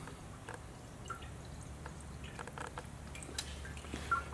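Faint water drips fall one by one during a shower sprinkler flood test over Kerdi waterproofing, quiet irregular droplets against a low background hum.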